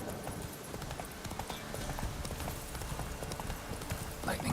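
Roach the horse trots in the video game, hooves clip-clopping in a steady, close rhythm over dense ambient noise, with a faint snort near the end and no clear speech.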